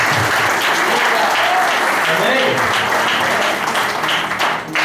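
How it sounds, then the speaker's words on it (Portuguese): A church congregation at a worship service applauds loudly to welcome Pastor Ailson. The thick, continuous clapping fills the room from start to finish, and a voice calls out briefly over it. "Receba o pastor Ailson com as palmas do Senhor."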